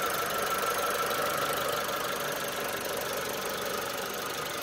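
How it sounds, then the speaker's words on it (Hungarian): A Mitsubishi Lancer 1.3 GLi with a 12-valve engine runs steadily up close with the hood open, giving a continuous even hum with a faint ticking rattle and no speech. "Itt a 12 szelepes motorunk."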